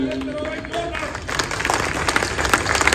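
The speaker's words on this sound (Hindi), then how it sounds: "आप लोगों की तालियां सिर माथे पे।" A voice speaks briefly, then applause from an audience at a gathering in Sector 8, Dwarka, Delhi swells, with many hands clapping fairly loudly and filling the room.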